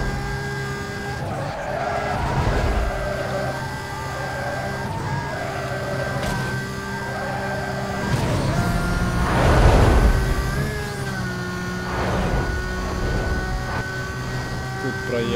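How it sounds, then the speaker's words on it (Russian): A Lamborghini accelerates hard in Need for Speed Most Wanted, the engine droning steadily with rising and falling pitch and tire squeal, while someone talks over it throughout. "Давай, газ в пол, газ в пол, пожалуйста, ламба, ты же можешь ехать."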